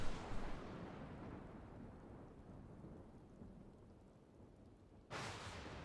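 Thunderstorm in Final Fantasy XIV: loud rolling thunder and heavy steady rain fill the scene, easing slightly in the middle before another thunderclap bursts in near the end, with no talking.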